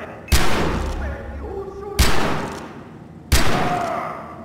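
Three loud, booming gunshots from the video game Far Cry 4, played on a custom map, fire about one and a half seconds apart, each cracking sharply and then trailing off in a long, rumbling echo.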